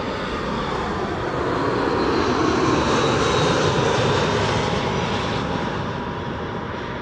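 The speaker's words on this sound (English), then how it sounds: "our next airplane is also coming in" A passenger airplane landing at Amsterdam Schiphol Airport produces a loud, steady engine roar that swells slightly toward the middle and holds for the whole stretch, with no talking.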